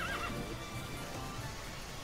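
A horse in the video game TERA whinnies briefly at the start, faint and somewhat distant, followed by a low rumbling background.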